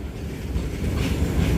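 A MEMU passenger train on the Rampurhat–Jasidih line begins moving after a long halt, giving a steady low rumble with faint wheel clatter that builds slightly, heard alone without talk.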